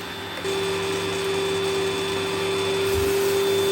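A Eureka Powerspeed vacuum cleaner runs continuously at close range, a steady motor hum with a sustained tonal whine and airflow rush, heard alone without speech.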